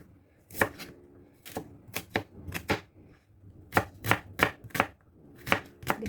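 A knife chops eggplant on a cutting board for cheesy eggplant omelette, delivering sharp, close, crisp strikes in quick bursts of several cuts separated by brief pauses.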